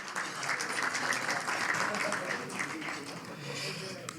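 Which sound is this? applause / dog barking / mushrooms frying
applause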